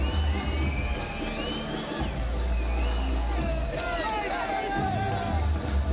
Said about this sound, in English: the Warhorse Sterritt, the crowd goes wild.